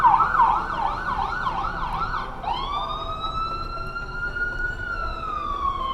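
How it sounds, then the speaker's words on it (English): An ambulance siren wails in rapid rising-falling cycles, then switches to a long, slow steady tone as it passes at a moderate distance. "ambulance is going by"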